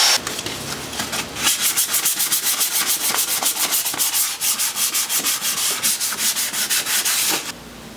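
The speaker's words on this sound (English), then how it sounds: "Right now, I'm working on sanding all of the firewall" Close, rapid scratchy rasping of sanding a painted Ford Ranger truck's engine bay firewall, a steady back-and-forth rhythm running for several seconds before stopping abruptly.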